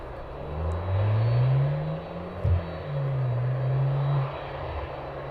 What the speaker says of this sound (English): So that aircraft's free, ready to move under its own power.